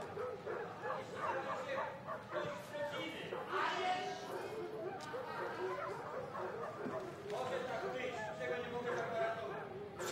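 Several village dogs bark and yip in short bursts, with some whimpering, mixed into a busy outdoor scene while people talk loudly over them.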